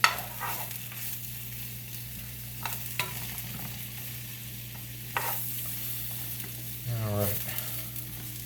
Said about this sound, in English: Get that butter melting down with the mushrooms